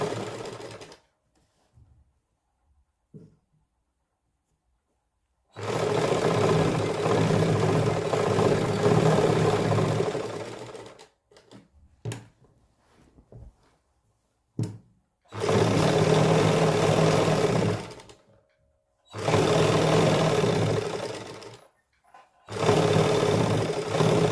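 Sewing machine stitching suit fabric, running in several steady motorized bursts of a few seconds each with quiet pauses and small handling clicks between them, loud and close.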